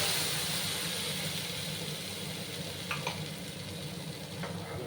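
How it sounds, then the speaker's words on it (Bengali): Black cumin spice paste fries in hot oil for a Bengali fish curry, giving a steady, even sizzle throughout. A couple of faint clinks sound midway. "এবার আমি যে পেস্টটা করে রেখেছিলাম সেই পেস্টটা আমি দিয়ে দেবো"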